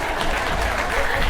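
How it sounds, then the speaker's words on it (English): A crowd at a keynote talk breaks into full applause, a thick, continuous wash of clapping filling the whole moment. "You can applaud."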